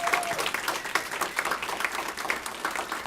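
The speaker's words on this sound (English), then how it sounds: "Please give him a round of applause." Audience at a university dedication ceremony for a distance education museum and café breaking into dense, sustained applause, a steady wash of many hands clapping together for the whole stretch.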